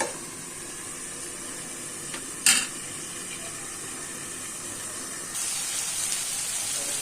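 Mixed vegetable sabji of pumpkin, taro and soybean steadily sizzling in a pan, a soft, even hiss with a brief louder burst partway through and a slightly brighter hiss near the end.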